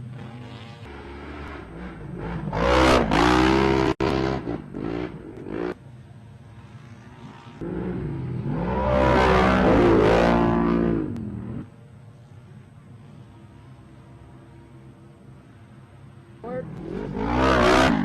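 UTV race cars at the GNCC Big Buck off-road race accelerate in loud revving bursts that rise and fade as they pass, with quieter engine drone between bursts and a commentator talking throughout.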